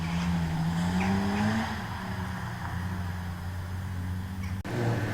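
A historic Volvo Amazon rally car slides around the Oulton Park skid pan with a pull of the handbrake, its engine droning steadily and its tyres whining through the slide, loud and close.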